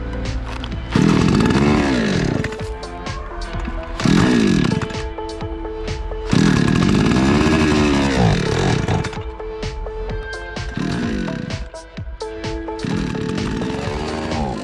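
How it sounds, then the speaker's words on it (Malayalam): A chainsaw with a carburettor fault is run during tuning, its engine revving loudly in repeated surging bursts and dropping back between them, close and alone. "നമ്മുടെ ചെയിൻസോ സ്റ്റാർട്ട് ചെയ്ത് കൈ കൊടുക്കുമ്പോൾ നിന്നു പോവുകയാണ്."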